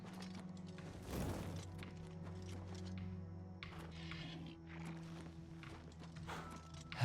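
Horse hooves clip-clopping in Oblivion Remastered, a steady series of muffled hoofbeats over a low droning game ambience, with occasional thumps and mechanical clatter.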